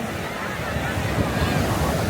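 Sea waves roll in at Marina Beach in Chennai, a continuous surf roar mixed with wind buffeting the microphone, fairly loud and unbroken.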